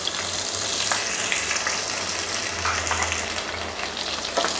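Onions sautéing in hot oil with mustard seeds, a steady dense sizzle with faint crackles, heard close and continuous with no voices.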